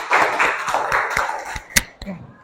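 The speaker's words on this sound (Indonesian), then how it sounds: "Tepuk tangan dulu untuk temannya." A classroom full of students claps for a classmate, giving a short burst of quick, rhythmic applause that thins out into a few last scattered claps.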